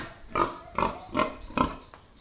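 A Landrace pig grunts four times at an even, steady pace, moderately close, with a faint fifth grunt trailing off; no talking.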